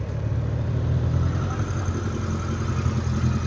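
A tractor idles on a road, its engine giving a steady, moderately loud low rumble that holds even throughout.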